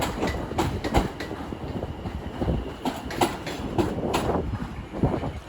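London Overground unit 710 374 working the 09:45 service to London Euston at Watford Junction on the West Coast Main Line, its wheels clattering in a steady run of close, rhythmic clicks over a continuous rumble.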